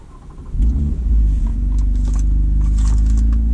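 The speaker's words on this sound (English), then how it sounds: "So I'm going to start up the car." A Toyota Camry V6 engine fitted with a D3 tune cranks and catches, jumping into a loud, deep rumbling idle that settles into a steady, close drone.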